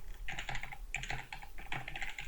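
Rapid typing on a computer keyboard, bursts of close key clicks with short pauses between, alone without talk.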